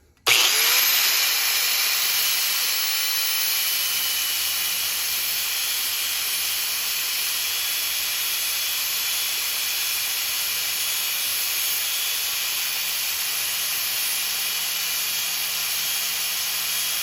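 A power cutting tool grinds steadily through the inner race of a differential bearing from a Triumph Spitfire, giving a continuous bright, hissing screech that starts abruptly and holds at an even, loud level without pause.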